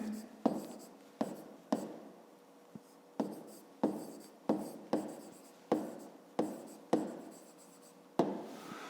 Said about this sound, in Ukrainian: це ми записали, тепер записуємо відповідь